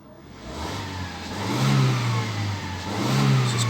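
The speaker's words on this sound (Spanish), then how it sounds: "Se escucha totalmente diferente el motor." A car engine revving after a damaged ignition coil causing a cylinder 2 misfire was replaced, close and loud, rising in two smooth surges from idle and easing back between them.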